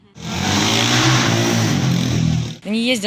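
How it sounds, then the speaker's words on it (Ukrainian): Motorcycle engines roaring on a city street, a loud, close, sustained rev for about two and a half seconds, cut off abruptly and followed by a brief voice. "ось такі реви моторів слухають щодня і на вулицях міста, і в своїх домівках"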